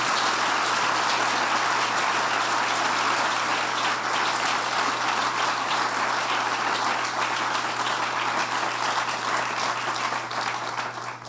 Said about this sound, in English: Can we give ISHA SESAY one more huge round of applause?